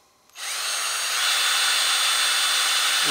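A Ryobi door trimmer planer spins up with a sharp trigger start and then holds a loud, steady motor whine with a high cutter hiss, close by and with no talk.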